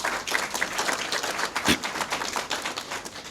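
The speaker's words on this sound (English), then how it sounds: "They deserve a round of applause." Audience applauding at a government agreement signing ceremony, a continuous patter of many hands clapping, moderately loud and close, with no speech over it.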